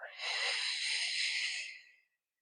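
Slow, deep breath with hands resting on the belly, a single airy, hissing exhale close to the microphone that swells, holds for over a second, then fades out into silence, with no speech.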